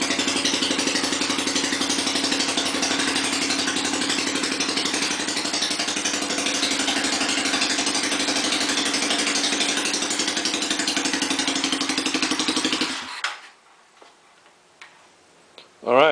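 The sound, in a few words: Kikker 5150 HardKnock 200 minibike engine idling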